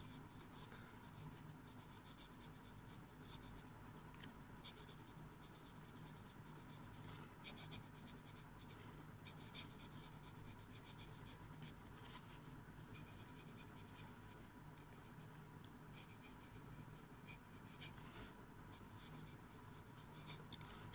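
Extra fine nib of a Luoshi fountain pen writing on paper with blue ink, a faint, steady, close scratching that keeps going without a break and with no voice.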